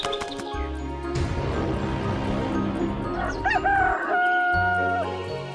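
Cartoon hen clucks and a rooster crows on a farm, the calls loud and close over a busy backing of music and effects, with a rising crow near the end.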